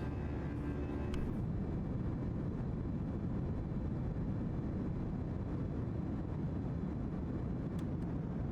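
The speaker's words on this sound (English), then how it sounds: "First takeoff in the 319" Fenix Airbus A319 climbing after takeoff in Microsoft Flight Simulator, a steady low engine rumble with constant airflow noise, fairly quiet and unbroken throughout.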